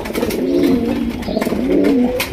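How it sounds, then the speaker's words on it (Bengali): Pigeons coo at a pigeon farm where Chinese owl pigeons are kept, two drawn-out rolling coos close by, one after the other, with no talking. "এখানে রয়েছে চাইনিজ আউল কবুতর"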